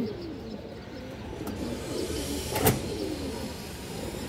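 Soft cooing of high-flyer pigeons kept for sale, low and murmuring beneath steady background noise, with one brief louder rustle or flap near the middle.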